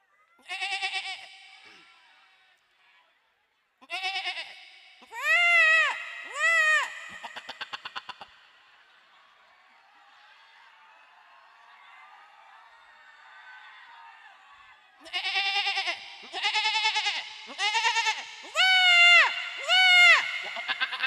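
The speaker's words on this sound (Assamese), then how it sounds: "একেটা ছাগলী চাউণ্ডটো দিব" Goats bleat in loud, close bursts at a live comedy show during Rongali Bihu in Kareya: a few cries, then a pause filled with a low crowd murmur, then a rapid run of bleats.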